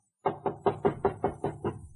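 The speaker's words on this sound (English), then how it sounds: "A knock on the door produced results." Eight sharp knocks on a hotel room door come in a steady, even rhythm, close and clear, with no talk.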